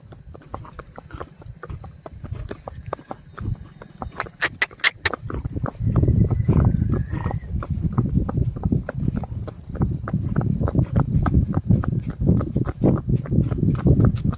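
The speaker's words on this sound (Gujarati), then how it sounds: "તમે જોવો ઘોડી જાય છે." A mare walks on a village road, her hooves clip-clopping in a steady rhythm at moderate distance, growing louder and denser toward the end, with some background noise and no talk.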